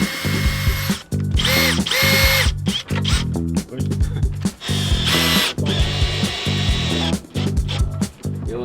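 A power drill works on a boat plank, whirring loudly in repeated bursts with short pauses between them, close by.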